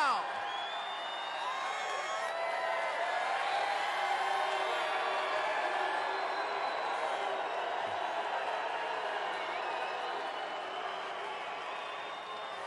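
Large crowd at a Donald J. Trump political rally in Everett, a dense, sustained roar of cheering and whooping that stays loud and steady from start to finish, with many voices blended together.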